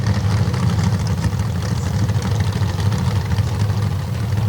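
A loud, steady Pro Stock drag car engine rumbling at the line during MRA qualifying at Steelville, low and continuous without a clear launch.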